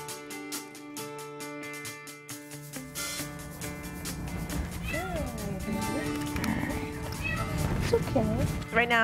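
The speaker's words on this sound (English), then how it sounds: "Right now, me and Brittany are testing all of the cats to be sure that they don't have feline leukemia or feline AIDS." Several cats meowing at an animal shelter, a wavering chorus of repeated cries growing louder and busier, mixed with background music.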